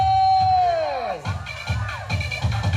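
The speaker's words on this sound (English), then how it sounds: "Here, come on, clap for Harish and family!" A wedding sangeet crowd cheers, whoops and claps for Harish and family, loud and close, with a descending musical tone fading out at the start and bursts of shouting that follow.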